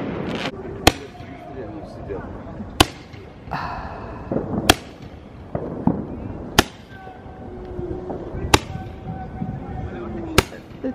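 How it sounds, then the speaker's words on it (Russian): Fireworks set off in Katowice in 2020: sharp single cracks about every two seconds, loud and close, with quieter whistles and thumps between them and some faint voices in the background. "Запускаем фейерверки."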